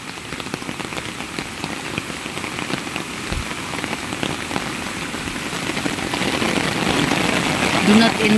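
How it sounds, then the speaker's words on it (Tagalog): Steady rain pattering on a surface, a dense even hiss of drops that grows slightly louder toward the end, with faint voices in the background. "Kay ulan man."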